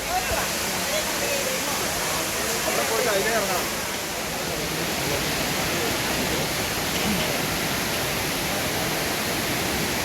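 Thusharagiri waterfall pours as a loud, continuous broadband roar, steady and close, with faint voices barely audible beneath the rushing water.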